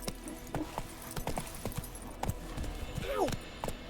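A horse in the video game The Witcher 3: Wild Hunt, with a steady run of clip-clop hoofbeats, a short whinny partway through, and a voice speaking faintly underneath.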